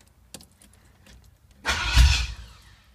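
Car engine with new straight headers, near and quiet at first with a few faint clicks, then cranking and catching in a sudden loud burst that fades out after about a second.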